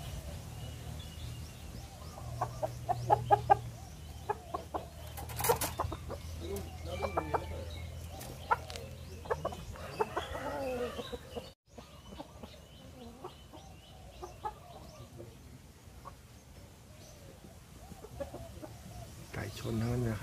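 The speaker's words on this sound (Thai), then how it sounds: "ไก่ชนทั้งนั้นนะครับ" Fighting cocks cluck and call repeatedly at close range amid farmyard bustle, with scattered clicks and knocks and a voice talking at times.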